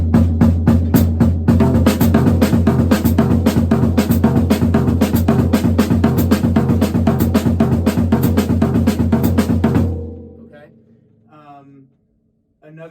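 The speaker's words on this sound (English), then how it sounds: "you want to put the bass drum on the downbeat instead of always on the offbeats, and that would sound like this" A drum kit groove with the bass drum placed on the downbeats instead of the offbeats, played as a steady, loud, dense pattern for about ten seconds. It stops abruptly, and a few faint sounds follow.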